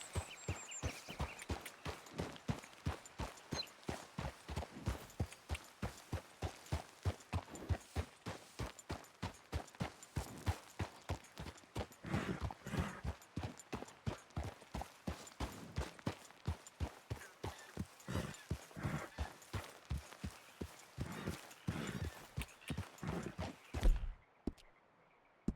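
Horse hooves clip-clopping steadily in Red Dead Redemption 2, a long run of evenly spaced, close, fairly quiet hoof beats that ends in a brief clatter and silence.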